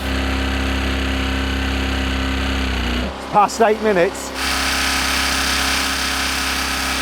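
A Porsche engine drained of oil screams at full revs, a loud, steady high-pitched drone that holds throughout, with someone speaking briefly over it partway through.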